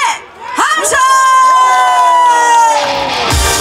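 A crowd at a township day festival in Jinan erupts in loud cheering and shouting, children's voices and whoops rising together in a sustained roar that swells and then tapers off.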